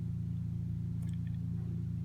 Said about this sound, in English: There is a pressure washer being used.